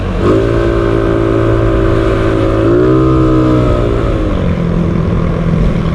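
A Yamaha Mio 160cc scooter engine revs loud and close, its pitch rising and falling in a couple of swells before settling to a steady drone, with no voices.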